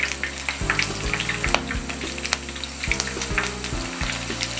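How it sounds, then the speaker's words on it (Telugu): Green chilies and curry leaves frying in hot oil for a crispy potato fry give a steady close sizzle with bright crackle and pops, while low sustained tonal hum bands shift in steps underneath. "ఇప్పుడు ఇదే నూనెలో పచ్చిమిర్చి కరివేపాకు కూడా వేయించుకోవాలి."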